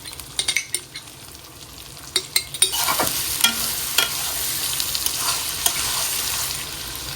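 Garlic and ginger sautéing in a pan as a spoon stirs them, a steady sizzle broken by scattered utensil scrapes and clinks that grow busier toward the middle.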